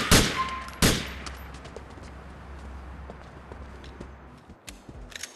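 Gunfire in the GTA IV video game: two sharp, loud shots near the start, followed by scattered fainter pops and cracks over a low ambient rumble.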